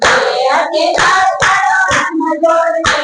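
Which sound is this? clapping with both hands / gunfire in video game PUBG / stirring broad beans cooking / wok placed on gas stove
clapping with both hands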